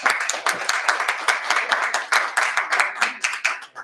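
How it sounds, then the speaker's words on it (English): Audience members at a governor's community meeting on a constitutional amendment clap together, a close, crisp patter of individual hand claps in an uneven rhythm that carries on for a few seconds. "I think we ought to give ourselves an applause."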